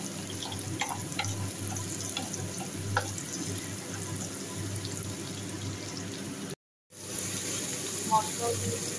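Potatoes and onions frying in a pan with ginger, garlic and chilli masala sizzle and crackle steadily while being stirred, a dense hissing bed with occasional clinks and a brief cut to silence.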